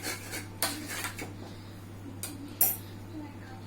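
A spoon mixing raita in a bowl, soft rubbing and scraping with a few light clinks of metal against the dish, quiet and close with no voices.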